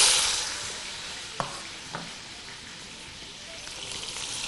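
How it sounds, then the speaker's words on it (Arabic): Onions and peppers frying in a pot give a steady, broad sizzling hiss, loudest at the start and then settling, with two small clicks of stirring or utensil contact and no talk. "اوكي هسه عندنا هنا راح نخلي البصل والفلفل بالجدر"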